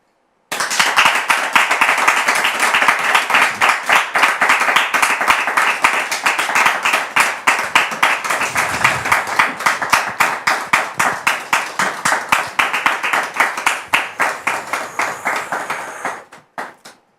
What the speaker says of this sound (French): On va tout de suite la recevoir, très cher public, sous vos applaudissements,